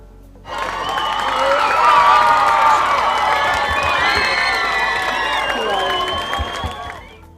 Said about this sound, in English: Please give a warm round of applause for our final presenter, Mimi Direwolf.